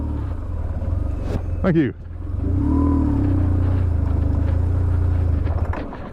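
A BMW R1150GS Adventure motorcycle engine rumbles and strains as the clutch slips in mud, with a steady low drone and rising revs, under speech from the rider.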